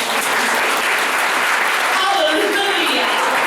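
A church congregation claps together during a Sunday service, a dense, loud and sustained wash of applause, with a voice faintly audible in the background.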